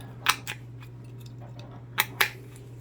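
MintCraft tin snips, a copy of a Stanley design, cutting at a tightly locked fastener: four sharp metallic snips in two pairs over a steady low hum, close and fairly crisp.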